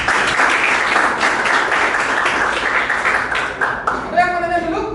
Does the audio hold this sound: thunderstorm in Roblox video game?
no